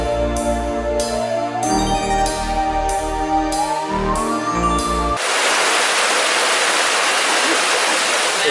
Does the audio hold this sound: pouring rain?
yes